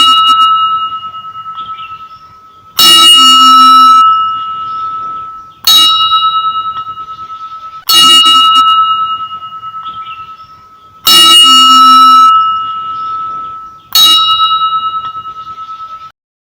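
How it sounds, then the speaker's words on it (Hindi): A metal object strikes a hard surface several times, each hit producing a bright sustained ringing tone that decays slowly before the next strike, loud and close with no talking. "When we toss a coin on the floor, it produces ringing sound."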